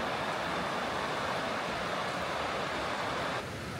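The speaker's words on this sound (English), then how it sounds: "It is so beautiful to have that big rushing creek" Big rushing creek on a mountain hike, its steady broadband water roar filling the scene continuously and loudly, with no voices, easing slightly near the end.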